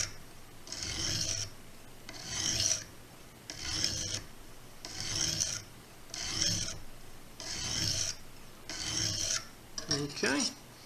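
A knife blade is drawn across the stone of a Lansky guided sharpening system, making about seven evenly spaced rasping strokes, close and clear, with a brief scrape at the end. No speech is heard.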